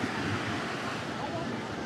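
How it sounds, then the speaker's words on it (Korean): Waves in the wave pool at Caribbean Bay water park wash in a soft, continuous surge, heard fairly faint from within the water with a breezy hiss and no clear speech. "파도가 높게 와가지고"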